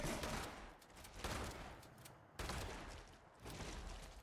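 Shotgun fire in the video game Fallout 76, a few heavy bursts of gunfire with long decaying tails, moderately faint, with no voices.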